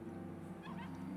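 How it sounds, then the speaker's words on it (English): A puppy whimpers and yips in Final Fantasy XIV, a few short high cries rising over a steady hum of game music and ambience. "Oh, it's a puppy."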